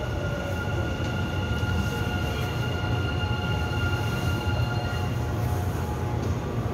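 A Busan Metro Line 2 subway train pulls into Suyeong station, a continuous loud rumble of rolling wheels on rails with sustained whining tones and faint squeal, steady throughout with no speech.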